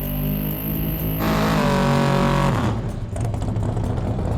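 A drag race car on 275 radial tires makes a motor pass on a hometown street, its engine roaring loud and steady before shifting pitch partway through and continuing to drone close by.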